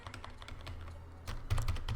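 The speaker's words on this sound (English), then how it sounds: "a normal gaming keyboard, the Logitech G105 with single key press" Single key presses on a Logitech G105 gaming keyboard, a steady run of close, soft clicks that grows a little louder and busier toward the end, with no talk.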